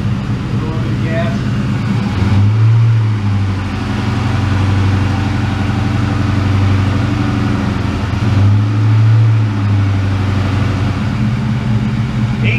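A 2001 Ford Mustang Bullitt GT V8 running after its first start following winter repairs, a steady rumbling idle with a couple of brief blips of revs, close up, while people talk over it.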